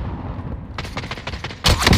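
Video game gunfire crackles in quick bursts of several shots, then a louder, denser volley near the end, with no speech over it.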